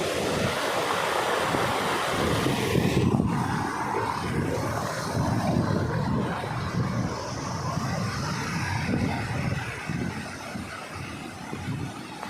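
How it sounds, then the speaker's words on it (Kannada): Continuous rushing water pouring down a small waterfall at the Bhadra Dam ghat, loud and steady throughout, with a broad churning roar and no voices. "ಮಿನಿ ವಾಟರ್ ಫಾಲ್ಸ್ ಇದೆ."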